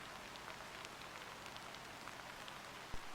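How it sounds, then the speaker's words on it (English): Steady rain pattering outdoors, a dense, even hiss of drops on surfaces running throughout with a single brief louder tap near the end. "it's been raining for the past few days and I just love the weather"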